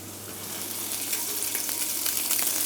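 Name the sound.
thin fish fillet frying in a hot pan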